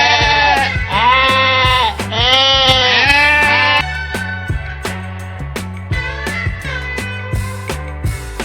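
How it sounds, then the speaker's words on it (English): Sheep bleat as a sound effect, several loud, wavering calls close to the microphone, the first ones long and drawn out, then shorter bleats with short gaps between them. "Sheep, भेड़."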